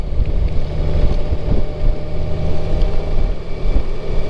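A 2019 Honda Goldwing Tour DCT being ridden on a warm afternoon in Raleigh, North Carolina, a steady low engine drone mixed with buffeting wind noise, close and continuous.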